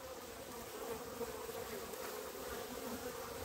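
Honeybees buzz steadily around a beehive on a late-season day, a soft continuous drone of many wings close by with no one talking.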